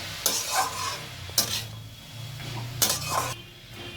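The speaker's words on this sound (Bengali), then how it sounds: "হলুদ আর লবণটা দেওয়ার পর বিটের সাথে দেখো আবার খুব ভালো করে সবটা মিশিয়ে নিচ্ছি" Beetroot with turmeric and salt being stirred in a frying pan: three sharp spatula scrapes and clinks against the pan at regular intervals over a soft, continuous sizzle.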